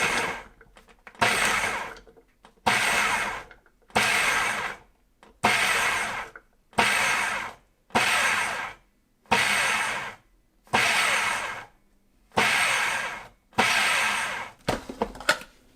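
Cuisinart FP-8SV food processor pulsing through a large onion, ten short loud whirring bursts of about a second each, split by brief silences, with a quicker flurry of pulses at the end.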